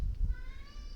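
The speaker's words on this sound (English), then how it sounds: "If you heard that, that's my cat Mephisto." A brief cat meow rises over a low rumbling background, a single drawn-out call lasting under a second.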